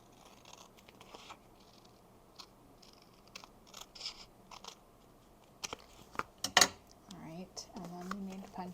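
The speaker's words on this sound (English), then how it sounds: "let's trim off the excess" Scissors snip excess paper from a card tag in a few short, quiet cuts, with soft paper rustling and handling noises, followed by a brief bit of speech near the end.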